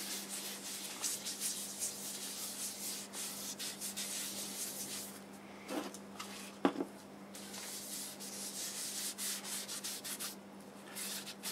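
Steady soft rubbing of a cloth wiping sanding sealer onto a turned hackberry wood pot, continuous and close, over a low constant hum, with a couple of brief knocks midway.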